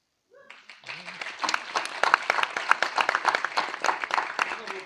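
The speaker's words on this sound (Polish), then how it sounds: "jeszcze raz brawa, gromkie brawa dla studentek Akademii Teatralnej im. Zelżowicza Warszawa" An audience applauds students of the Zelwerowicz Theatre Academy in Warsaw, the clapping starting after a brief voice and building into dense, lively applause that continues to the end.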